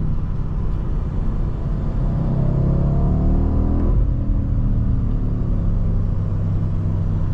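A BMW M850i Gran Coupe engine in Sport Plus mode holds a deep, steady rumble from inside the car, with a smooth rise in revs that swells midway, no voices present.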